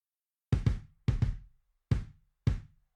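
Addictive Drums MIDI kick drum run through a default Presonus compressor after EQ, giving rounded, even thumps in a groove of two double hits followed by two single hits, close and alone.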